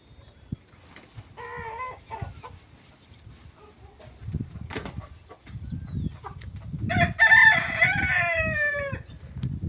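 Desi roosters crow twice, one long crow early and a louder, closer one later, over scattered clucks and farmyard rustling.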